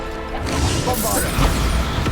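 A Bombarda spell blast in Hogwarts Legacy: a loud, dense crashing burst with a swooshing rush that fills the short moment, under a voice shouting.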